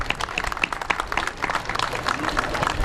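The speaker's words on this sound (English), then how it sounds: "let's give a very big round of applause to the neighbors of our community who want to build community" Scattered outdoor applause from a small crowd at a groundbreaking ceremony for a community building project, with distinct individual claps over a fairly thin, steady wash of clapping.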